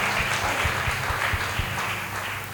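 Congregation at a church meeting near Jog Falls, Karnataka, clapping hands in praise, a dense continuous wash of applause with steady low rhythmic thumps, fairly loud and sustained throughout with no talk.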